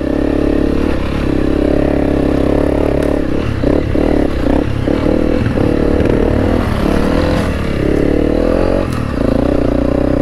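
A Honda CRF300L trail motorcycle rides a rough track, its single-cylinder engine droning loudly and continuously up close, surging and easing as the throttle changes, with clattering and scraping from the bike over uneven ground.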